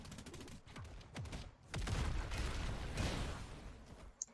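A Martial Artist's Bullet Barrage attack in a video game unleashes a dense volley of punchy gunfire-like blasts, first in scattered bursts and then a sustained loud barrage, followed by a sharp final hit.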